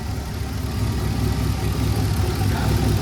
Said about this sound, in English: it's sitting there idling real nice